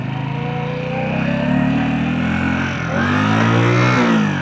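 A motorcycle accelerates hard in first gear through a turn, its engine note climbing loud and close, easing briefly, then rising again in a strong sustained rev.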